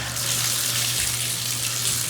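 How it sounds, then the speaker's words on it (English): A hotel shower head at a Courtyard by Marriott in Blacksburg, Virginia sprays water in a strong, steady hiss that continues evenly and close by with no break. "that is a good spray coming out of that shower"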